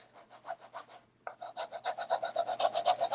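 A scraper rasps repeatedly across a surface, lifting off a heat transfer in quick rhythmic strokes, close and moderately loud, with a brief pause before the scraping resumes faster.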